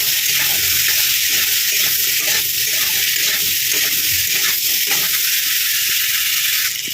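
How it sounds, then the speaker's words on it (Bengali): Papaya and potato pieces are stirred in a pan with salt and turmeric, producing a continuous hissing sizzle with soft scraping stir sounds, close and steady, no talking. "লবণ আর হলুদ দিয়ে দিয়েছি দিয়ে ভালো করে কষিয়ে নেবো"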